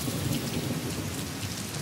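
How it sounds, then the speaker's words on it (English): Heavy monsoon rain falls during a thunderstorm in Sri Lanka, a loud, dense, continuous downpour with a low rumble beneath it and no voices. "The Sri Lankan monsoon lasts around a month and brings heavy rain and thunderstorms across the island."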